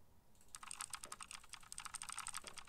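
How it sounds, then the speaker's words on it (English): Keys of a computer keyboard being clicked in quick, uneven bursts. Close and crisp, with the clatter running almost continuously over a quiet background. "I'm clicking the keys."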